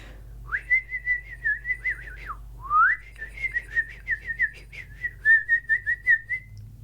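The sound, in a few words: whistling imitating a bird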